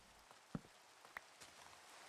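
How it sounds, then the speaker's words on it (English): Rain falls on a surface outdoors, a very faint, soft background patter broken by a few sharper isolated drops and ticks. "There we go, raining again."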